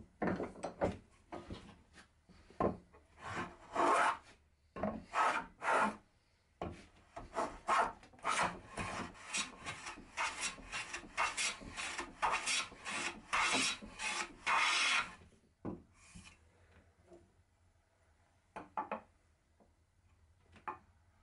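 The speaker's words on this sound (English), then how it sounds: "One edge was then planed square" A hand plane shaves the edge of a glued-up wooden panel, with repeated rasping strokes in quick bursts, close and crisp, then a few quieter scrapes as the work tapers off.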